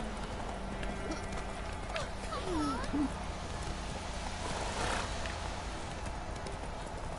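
Horse hooves clip-clopping on the ground in The Witcher 3 video game, a steady trotting rhythm under ambient game sound and a faint whinny, with someone talking over it.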